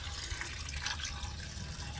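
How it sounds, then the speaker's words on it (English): Water pours into a rock tumbler barrel filled two-thirds with dirt road rocks, a steady close splashing and trickling stream that runs unbroken and alone at moderate loudness. "So what you want to do is add water."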